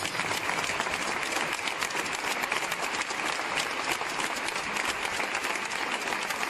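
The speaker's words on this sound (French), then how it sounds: "il y a des applaudissements" Concert audience applauding inside the Sacré-Cœur basilica, a large crowd clapping continuously and vigorously for several seconds, dense and reverberant, with no voices rising above it.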